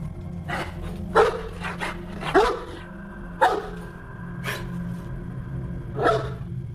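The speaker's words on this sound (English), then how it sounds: "All of a sudden, she started barking." A dog barks in a dark setting at night, giving several sharp, close barks spaced about a second apart, with softer whimpering sounds between them over a low background hum.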